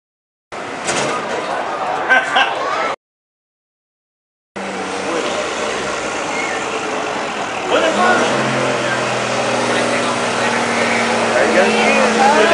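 A Dodge Ram pickup at a county fair truck pull revs hard with the clutch slipping and burning, a loud continuous engine roar that cuts out briefly and then builds and climbs again, with crowd voices shouting over it.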